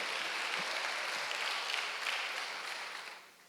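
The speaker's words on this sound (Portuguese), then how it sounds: "Aplaudo o Senhor mais uma vez" Church congregation clapping in praise of the Lord during a Baptist communion service, a dense, even round of applause that holds steady and then tapers off.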